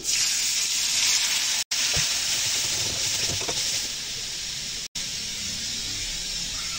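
Onions and a little green chili fry in hot oil in a wok, giving a steady, bright sizzle and hiss throughout with two brief cuts in the sound and a slightly quieter stretch near the end.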